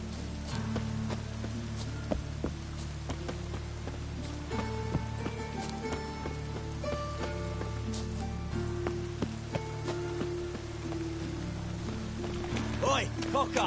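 Steady rain falls in the Witcher video game, a soft, continuous patter beneath character voices, distant clip-clopping hooves and other town ambience.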